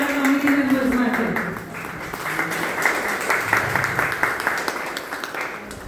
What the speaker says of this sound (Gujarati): સૌથી પહેલા અમારો પ્રમુખ નિકિતાબેનની માટે જોરદાર તાળીઓ થઈ છે